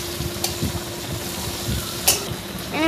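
Onion, chili, garlic and ginger fry in a pan for paneer butter masala, a steady sizzle under irregular spoon scrapes and clinks, with a brief whistling tone near the end and no speech.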